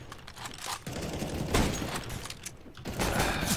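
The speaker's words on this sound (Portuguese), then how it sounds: "Toma tiro de scout varado." Rapid sniper-rifle gunfire in a tactical shooter video game, several sharp overlapping shots and mechanical clatter filling the short stretch at close range without any voices.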